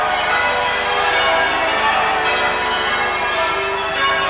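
Church bells of St. Clement Danes on the Strand in London peal continuously during a 1981 royal wedding procession, loud and ringing with dense overlapping strikes over a wash of crowd noise.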